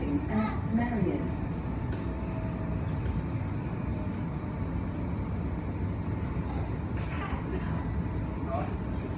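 Aboard an Adelaide Metro Seaford line train travelling between Adelaide and Oaklands, a steady low rumble of the moving carriage fills the cabin, with brief nearby voices early on.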